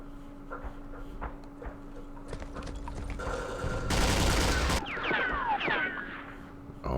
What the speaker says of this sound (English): there's a heavy machine gun on the hill